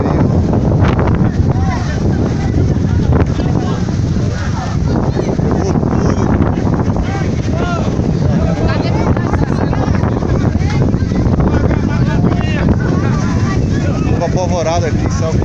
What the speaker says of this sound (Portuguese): Furacão levando tudo, derrubou tudo aqui.